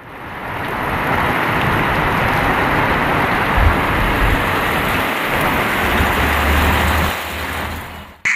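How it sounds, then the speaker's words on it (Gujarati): Heavy rain pours down in Vapi, Valsad district, a loud dense steady roar lasting several seconds, with a low rumble partway through that may be thunder, before it cuts off abruptly. "વલસાડ જિલ્લાના વાપી સહિત કેટલાક વિસ્તારોમાં ગાજવીજ સાથે ભારે વરસાદ વરસ્યો હતો।"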